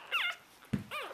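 A three-day-old puppy whimpers in a few short, high, wavering cries, close and fairly soft, with a brief pause between the first whine and the last two.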